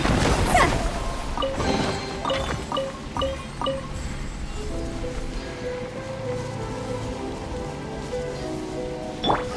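Rain falling in the video game Genshin Impact, a steady hiss of drops with scattered splashes and brief tonal game chimes, heard alone without talk.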